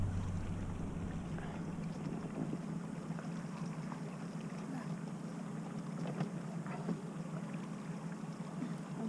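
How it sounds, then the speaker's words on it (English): Constant low drone of a fishing boat motor running steadily throughout, with wind and water noise and no speech. "I'll just keep the boat going."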